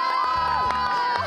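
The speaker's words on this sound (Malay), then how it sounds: "Tepukan untuk Nat Zainal." Crowd cheering and shouting for a prize winner, a short loud burst of excited voices, including children, with whoops and shrieks rising and falling.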